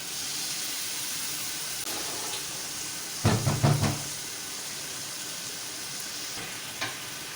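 Marinated chicken drops into hot oil in a pan, a sudden burst of sizzling and spattering at mid-clip over a quiet background hiss of frying, then settling back to a soft sizzle.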